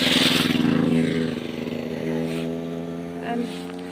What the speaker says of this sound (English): But I've got a motorbike coming.